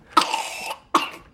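A young girl gives two sharp, close coughs in quick succession, the first drawn out and raspy, the second shorter, with no talking around them.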